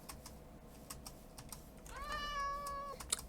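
A pet cat gives one clear, drawn-out meow close by, rising and then falling, while quiet keyboard typing clicks on in the background.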